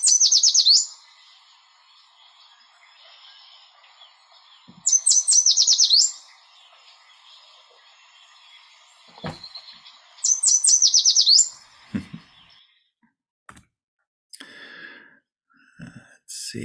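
Recorded songbird song of the sweet-sweet-sweeter-than-sweet type on a Montezuma birding tour: three bright bursts of rapid high whistled notes, clear and fairly close, separated by quiet gaps with soft rustles and faint sounds in between.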